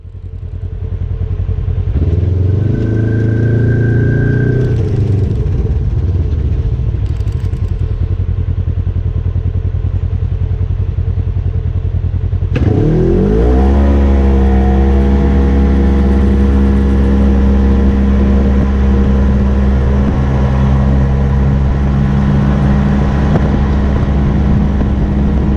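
A Polaris RZR side-by-side's engine idles loudly up close, revs briefly, then roars up steadily as it pulls away and keeps running at a strong, even drone.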